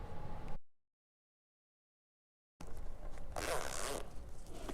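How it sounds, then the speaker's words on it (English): A zipper pull is threaded onto zipper tape while sewing a tote, heard as close, raspy zipping bursts on either side of a silent gap, the second run louder and longer. "You'll first want to thread your zipper pull onto your zipper tape"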